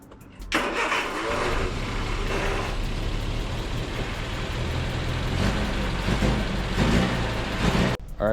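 A Mini car's engine cranks and catches, then runs at a steady, loud idle for several seconds before cutting off abruptly near the end.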